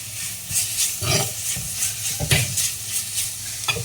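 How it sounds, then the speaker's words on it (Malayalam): Crushed shallots sizzle and crackle in a hot pan for a prawn curry, with repeated scraping strokes of a spoon as they are stir-fried, close and continuous, with no talk. "കൊച്ചുള്ളി ഞാൻ ചതച്ചതാണ് ചേർത്തിരിക്കുന്നത് ഇതിന് നന്നായിട്ട് വരണ്ട് വരട്ടിയെടുക്കുക"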